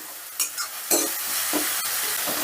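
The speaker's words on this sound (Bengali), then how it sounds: "মশলাটা বেশ ভালো করে কষে নিয়েছি" Spice paste for soybean dopeyaza fried and stirred in a pan over medium gas flame: a steady oily sizzle broken by a few sharp spatula scrapes and knocks near the start, close and without voices.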